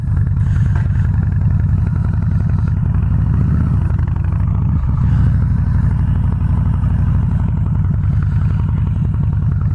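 Harley-Davidson Softail Slim 103ci motorcycle engine while riding, a loud, steady, close V-twin rumble with a deep pulsing throb that swells briefly mid-way as the throttle opens.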